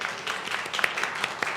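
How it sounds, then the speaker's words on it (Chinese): A church congregation at a prayer meeting claps briefly to welcome a newcomer, a short burst of scattered hand claps at moderate loudness. "我们拍手来欢迎"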